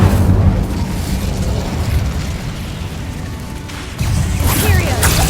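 An Incendio fire spell bursts in the video game Hogwarts Legacy, a loud whooshing blast at the start that fades into a rumbling tail before a second burst near the end, with a voice over it.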